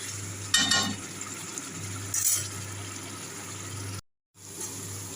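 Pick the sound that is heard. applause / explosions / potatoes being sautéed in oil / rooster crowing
potatoes being sautéed in oil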